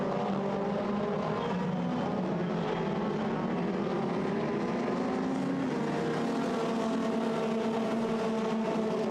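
Formula Renault 2.0 race cars accelerate through Abbey and Farm at Silverstone in a dense, continuous engine roar with rising and shifting pitch, loud and sustained throughout with no break.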